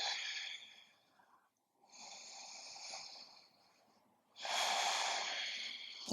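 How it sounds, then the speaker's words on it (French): Slow, deep breaths during a seated quadriceps and hamstring stretch, close and fairly loud: two long airy inhale-exhale swells with a quiet gap between them, no talking. "Pensez à bien respirer profondément."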